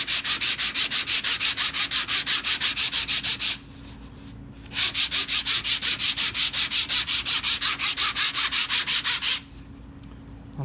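Sandpaper roughing up a plastic sheet for an algae scrubber, in fast rhythmic back-and-forth rasping strokes, loud and close, with a short pause in the middle and a stop near the end.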